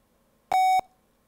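A computer restarting gives a single clean electronic beep of about a third of a second, clear and alone against near silence.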